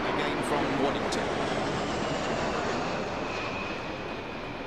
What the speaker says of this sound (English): we're looking at the RC-135 rivet joint, another one of the Royal Air Force's I-Star aircraft, operated this time by 51 Squadron